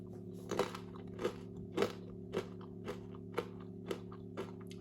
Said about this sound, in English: So I'm gonna take a pita chip and just kind of scoop it up.